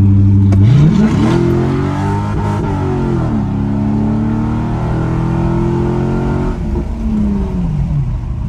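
A Corvette sports car engine revs loudly, rising sharply and then sustaining a throaty, harmonic roar before easing back down, close and dominant with no speech over it.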